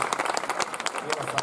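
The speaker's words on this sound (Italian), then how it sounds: "Un applauso all'anatra." Applause from an audience at a children's musical fairy-tale performance, a brief burst of scattered hand claps with sharp individual hits, fairly close and lively, ending quickly.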